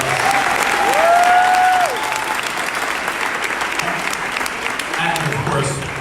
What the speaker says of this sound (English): who deserve a big round of applause